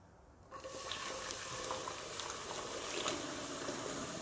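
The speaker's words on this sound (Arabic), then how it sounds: "هسه راح اضيف كميه من المي." Water poured into hot caramelized sugar in a cooking pot sets off a sudden, loud hissing sizzle that keeps going steadily after a brief quiet start.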